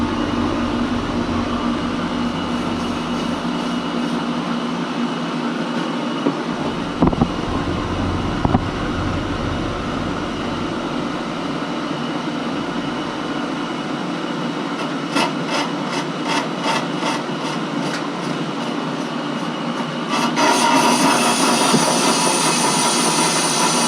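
A continuous grinding, rasping scrape of a lathe cutting a 1969 Rambler front brake drum, loud and steady over a machine drone, with a brief rhythmic rattle near the end.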